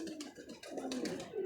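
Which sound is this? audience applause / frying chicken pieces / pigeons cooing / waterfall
pigeons cooing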